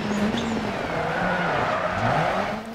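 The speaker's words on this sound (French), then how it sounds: "Et la glisse au freinage" A Ford Focus slides under braking on a World RX rallycross track in DiRT 4, a steady loud engine drone with tire scrub and skidding throughout, no voices.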